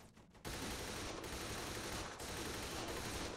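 Sustained automatic gunfire in the video game Saints Row the Third, loud and continuous after a brief quiet start, with rapid overlapping shots forming a dense, unbroken barrage.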